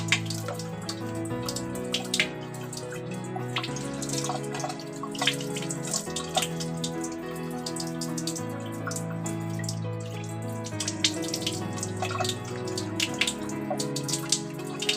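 Tap water runs steadily over eggs being washed one at a time in a sink while salted eggs are prepared, a continuous close splashing hiss with small drips throughout and no talking.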